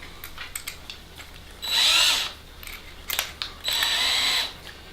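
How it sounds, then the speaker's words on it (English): A power driver with a Phillips bit runs two short whirring bursts while driving screws into wood for a goat disbudding box, with clicks and handling noises in between and no talking. "We'll change back over to our Phillips head driver."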